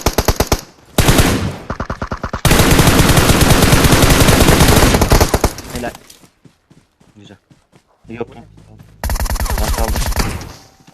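Bursts of automatic gunfire in PUBG Mobile, loud rapid rattling volleys that stop and start, with quieter single shots and footsteps in between, while players talk over the action.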